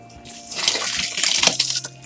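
Water and soaked rice pour into a pot for Chettinad-style seeraga samba chicken dum biryani, a close, steady splashing gush that swells over about a second before tapering off.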